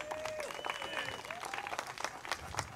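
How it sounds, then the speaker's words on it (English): Audience applause for volunteers at a comedy magic show during a small-town 125th anniversary celebration in Wishek, North Dakota, a steady crowd clapping with scattered sharp claps over a lively room. "Big round of applause for our volunteers."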